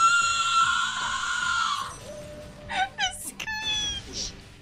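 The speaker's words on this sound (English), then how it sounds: "That was such a good screech" A shrill, high-pitched screech from a meme clip rings out loud and sustained for about two seconds, then gives way to shorter yelps, squeals and chatter in the background.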